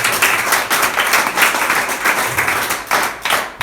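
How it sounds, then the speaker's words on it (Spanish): Steady applause from a church congregation, many hands clapping densely and continuously at close range for several seconds, with no talk over it. "Vamos a aplaudirlo."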